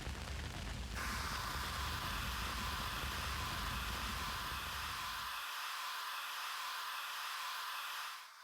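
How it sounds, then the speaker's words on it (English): A fire extinguisher in the video game Zero Time Dilemma blasts a loud, steady rush of hissing spray for about five seconds, then a thinner high hiss lingers before cutting off. "Guess that extinguisher up there helped"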